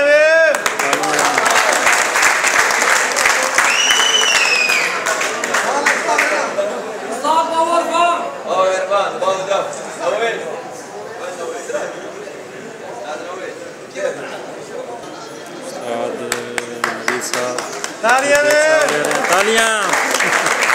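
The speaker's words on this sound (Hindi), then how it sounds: "तालियां" Sustained applause from a crowd at a prize-giving ceremony for the Hajj Cup Jeddah 2014, steady and fairly loud, running under a voice announcing over a sound system throughout.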